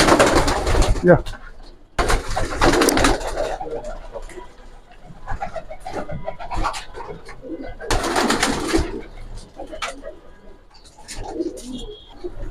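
Grizzle racer pigeons coo and flutter nearby while people talk over them, with loud bursts of wing flapping or rustling breaking in at intervals.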